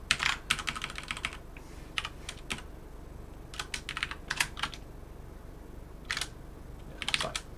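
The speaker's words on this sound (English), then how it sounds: "A lot of typing to get the behavior that you want." Computer keys clatter in quick bursts separated by short pauses, close and fairly quiet, with no voices.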